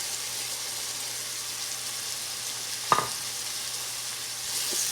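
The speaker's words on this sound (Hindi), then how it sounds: "इसको भी अच्छी तरह से इसमें मिक्स करके स्टर फ्राई कर लेंगे।" Onions and carrots hiss steadily in a pan, stir-fried for chicken fried rice, with a constant close sizzle and one brief utensil clack partway through.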